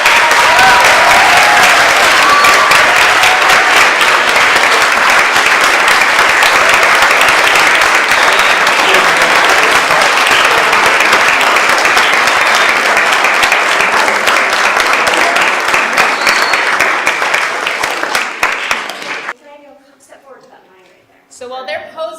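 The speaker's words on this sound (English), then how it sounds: "We would really love to applaud for you all." Sustained audience applause fills a grant awards ceremony hall in Portland, loud and steady for about eighteen seconds, then tapers off, leaving faint voices in a quieter room.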